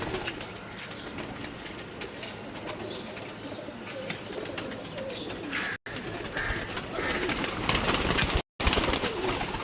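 Pigeons coo at a live loft in Gujrat, a dense, continuous murmur of soft cooing with light rustling and occasional wing sounds, close and steady throughout.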